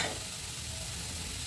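Food sizzling steadily in a pan while a spoon stirs it, a close, continuous frying hiss with low scraping underneath and no voices, during preparation of a roti and palya meal.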